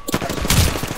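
A short burst of rapid gunfire in the battle royale shooter Apex Legends, several quick loud shots packed into one second, close and punchy over game noise.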